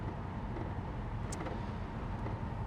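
A 1969 Chevrolet Impala convertible idles after about ten minutes of running, a steady low engine rumble that holds even and continuous throughout, with no talking.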